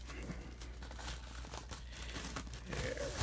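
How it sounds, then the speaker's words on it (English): Shrink wrap being torn and peeled off a vinyl record, soft close crinkling and crackling plastic in uneven bursts, quiet, with a louder rustle at the end and no talking. "Go ahead and take the shrink off here while keeping that hype sticker nice."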